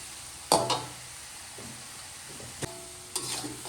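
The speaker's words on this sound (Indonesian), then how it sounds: "harus sering diaduk-aduk ya, karena dia potongannya kecil" Small pieces of tempeh sizzle softly in a pan over low heat as they are stirred, with a few sharp scraping clacks of the utensil against the pan.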